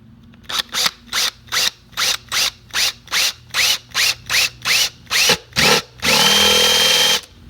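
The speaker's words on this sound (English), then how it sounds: "There's the hole I just drilled." A power drill boring a hole in a garage wall runs in about fourteen short, even bursts, then one long continuous whine at the end, loud and close with no talking.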